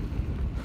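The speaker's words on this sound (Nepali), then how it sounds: "यहाँ चाहिँ साह्रो हावा आउँछ" Strong wind blows on Jeju Island, Korea, buffeting the microphone with a loud, low rumble that stays constant through a very short moment, with no talking.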